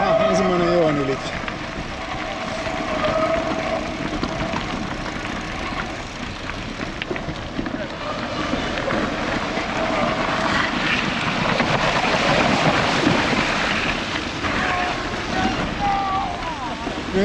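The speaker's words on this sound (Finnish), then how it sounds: "Aha, ensimmäinen joen ylitys." Gravel bicycle ridden through a river crossing, with sustained rushing, splashing water noise and wind buffeting the microphone for the whole stretch, while riders talk over it.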